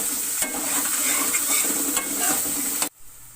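Ginger-garlic mixture being stirred in a frying pan, loud close sizzling with repeated scraping strokes that cuts off abruptly near the end, with no talking.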